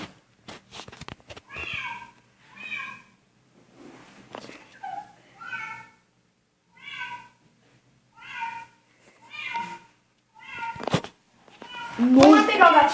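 Several kitten meows, repeated and fairly close, spaced out over the clip, with louder rustling and a vocal squeal near the end and people talking at times.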